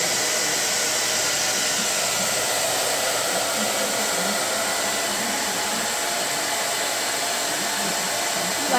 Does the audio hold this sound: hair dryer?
yes